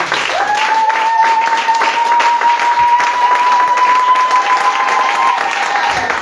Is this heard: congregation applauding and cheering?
yes